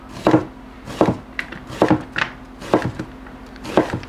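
A knife slices through a peeled onion on a wooden cutting board, with crisp, close chops landing in a fairly steady rhythm about every second, each cut a sharp thunk with a brief crunch.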